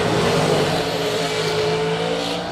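A drag race car roars down the strip at the Cedar Falls event, a loud sustained engine blare with rising harmonics as it accelerates, close and dominant, tapering slightly at the end.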